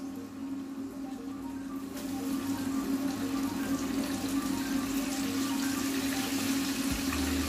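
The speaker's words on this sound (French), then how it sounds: "Je vais y jeter les encornets, crevettes, comme on a fait tout à l'heure." Squid and shrimp for fritto misto fry in hot oil with a steady sizzle and hiss that grows a little louder after the first couple of seconds and then keeps on evenly.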